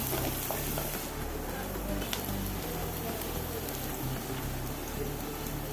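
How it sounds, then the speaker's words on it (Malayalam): Chopped onion sizzles in hot sunflower oil while being stirred, a steady loud crackling hiss with soft low knocks from the spoon running throughout. "എണ്ണ ചൂടായി സവോള എരിഞ്ഞത് ഇട്ട് കൊടുക്കുക ഒന്ന് ഇളക്കുക"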